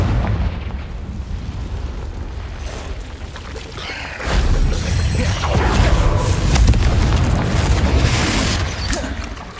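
A Confringo blasting spell goes off in Hogwarts Legacy, a loud booming explosion swelling midway and rumbling on, preceded by a dense crackling roar of magical effects.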